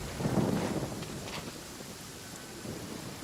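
Thunderstorm ambience in the Genshin Impact video game, a low rolling rumble of thunder with steady rain hiss, strongest at the start and then settling into a continuous wash.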